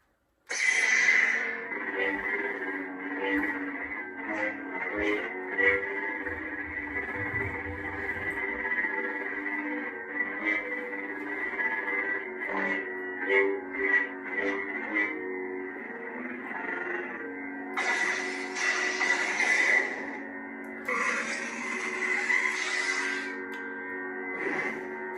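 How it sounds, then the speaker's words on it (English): A Sabertrio Vektra lightsaber's steady electronic hum drones throughout, broken by a series of quick whooshing swings and a couple of brighter crackling bursts near the end. "So you can hear, there's your swing sound, your hum sound."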